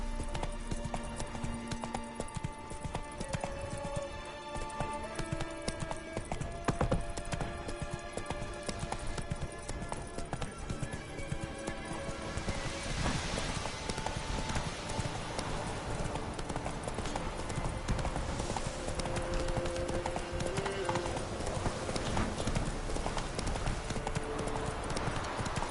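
Roach the horse gallops in The Witcher 3, a rapid, continuous clip-clop of hooves close up, running steadily throughout with game ambience beneath and no clear speech.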